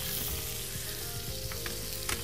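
Chicken fillet frying in a pan gives off a steady, close sizzle with soft crackling pops, a few sharper spatters near the end, and no voices.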